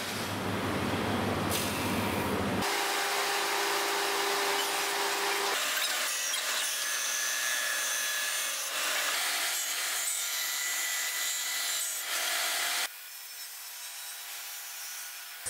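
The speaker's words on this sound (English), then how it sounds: "with the spacer I can flatten the other side on a drum sander as well." A drum sander flattening a wooden template holder for a Pantorouter XL: a loud, continuous abrasive roar with a rubbing rasp that shifts in tone as the workpiece passes, then eases near the end.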